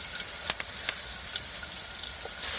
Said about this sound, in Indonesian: Nah, goreng jengkol ya di atas kastrol.